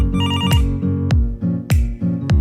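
A phone rings with an incoming call: a bright, loud melodic ringtone repeating in quick rhythmic pulses, heard alone without talk.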